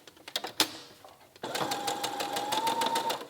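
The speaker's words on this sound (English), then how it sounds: "we're just stitching that down" A sewing machine stitches gauze fabric in a quick, even run of close stitches after a few soft handling clicks and a sharp tap, heard near and clear.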